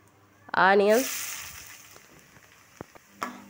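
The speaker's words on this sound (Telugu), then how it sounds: "ఆయిల్ హీట్ అయిన తర్వాత పట్టా, లవంగం, షాజీరా, హోల్ స్పైసెస్ అన్నీ వేసుకోవాలి" Whole spices such as cinnamon, cloves and shahjeera drop into hot oil in a kadai, giving a brief sizzle and stir noise while a person speaks over the cooking.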